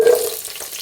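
Onions, green chillies and carrots hit hot oil in a pan with a brief sharp sizzle that quickly fades into a softer hiss, heard close and alone.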